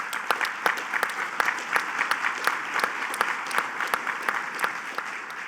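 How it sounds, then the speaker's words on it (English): Audience applause at a governor's public event, a dense patter of clapping with regular sharper accents, steady and fairly close, with no talking over it. "Let's give you a round of applause."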